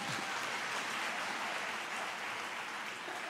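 Dense, steady applause from graduates and parents at a university graduation ceremony, a broad wash of clapping filling the hall at an even level from start to finish with no voices breaking through.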